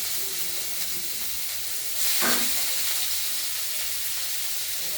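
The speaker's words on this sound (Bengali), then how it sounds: "এবার আমরা কড়াইতে দিয়ে দেবো তেলে তেলটা আগেই গরম হয়ে গেছে" Steady loud sizzling and hissing of thinly cut beetroot, carrot and green chillies frying in hot oil in a wok, with a brief surge of crackle partway through.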